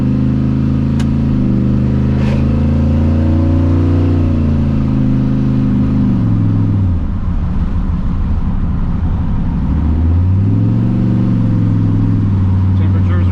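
A 1979 Ford F100 pickup with a 408 stroker V8 accelerates hard, its deep engine note climbing in pitch, dropping at a shift and rising again, loud and close throughout.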